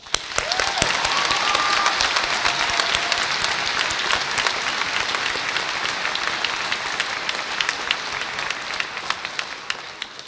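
Sustained applause from a large high school graduation audience, dense clapping that holds steady for the whole stretch without any speech.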